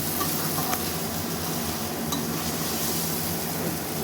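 Chicken curry sizzling as it is sautéed in a pan, a dense, continuous frying hiss with faint stirring and utensil scrapes, close and steady with no talking.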